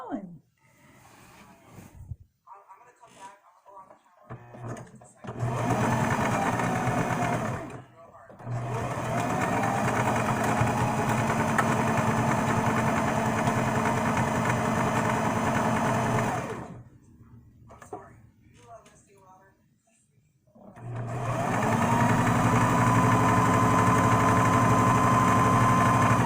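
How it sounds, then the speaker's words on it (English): A sewing machine stitches fabric in long steady runs of motor hum, stopping and restarting between bursts, with a person talking during the pauses and over the stitching. "now that that's changed, we can keep on sewing"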